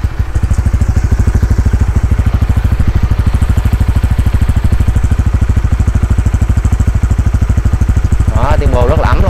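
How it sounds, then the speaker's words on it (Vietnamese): A 2020 Honda Winner X ABS motorcycle idles close by, its engine and exhaust giving a loud, steady, even pulsing throb, with a brief higher squeal near the end. "giờ mình sẽ mở tiếng bô cho các bạn nghe thử nha. Bô và tiếng máy à, rất là êm luôn."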